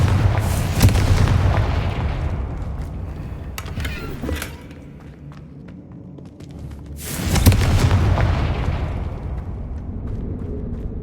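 The Confringo fire spell explodes in the video game Hogwarts Legacy, two deep booming blasts with a roaring burst that fades to a quieter rumble between them, loud and close, with no talk over it.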